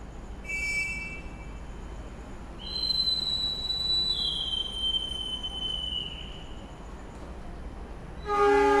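The Bima train pulls away from Jombang station over a steady low rumble, with a long high whistle in the middle and another horn blast near the end.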